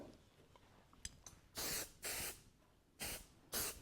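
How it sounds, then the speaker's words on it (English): Spray adhesive is misted onto wadding for a cosmetic bag in four short, close hissing bursts, each under half a second, after some faint handling clicks. "Just give the wadding a quick spray."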